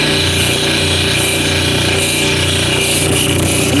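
A grinding wheel works a lump off a piece of hard stone, a steady close-up abrasive whir with a rough, continuous scraping texture and no pauses.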